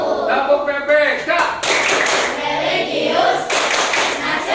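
A classroom group performs the Tepuk PPK clap chant, bursts of rhythmic hand claps alternating with voices chanting in unison, the claps loud and close in short patterned clusters.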